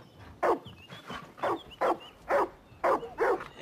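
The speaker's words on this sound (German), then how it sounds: "warum bellst du Timber an?" In the video game Far Cry New Dawn, a dog gives seven sharp, evenly spaced barks at moderate distance, with nothing else heard between them.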